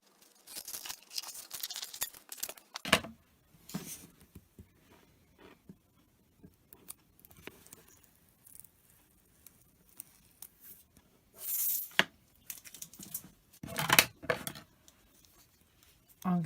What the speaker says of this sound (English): I'm just going to get a pair of scissors and just trim round it so I can save this piece of vinyl for another project.